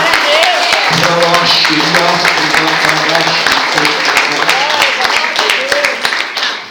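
Church congregation applauding the Lord during a sermon, a loud continuous wash of clapping with voices and sung or spoken tones running over it, fading slightly at the end.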